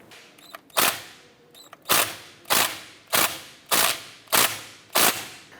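A 10mm socket wrench works on the front brake bleeder screw of a 2008-2012 Honda Accord, making seven sharp, evenly spaced metallic clicks, close and loud, each trailing off quickly.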